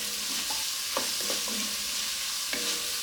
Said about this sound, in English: Now we're going to add the garlic puck. We're going to saute that just a few minutes